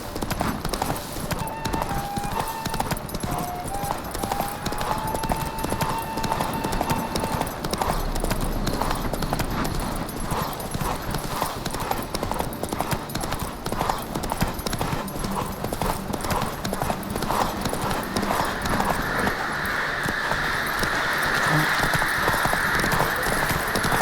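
Rhythmic hoofbeats clip-clop steadily for a long stretch as a horse gallops in The Witcher 3: Wild Hunt, with game music and occasional chimes layered underneath.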